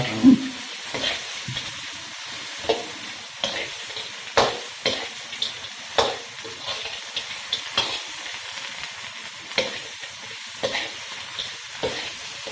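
Mang phlap insects roasting with salt in a pan, a close, continuous dry sizzle broken by frequent scraping, rattling stirs at an uneven rhythm.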